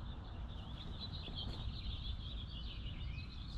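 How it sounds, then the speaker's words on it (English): Birds chirp at dawn while it is still dark, a faint steady twittering held over a low background rumble, with no voices. "listen to those birds."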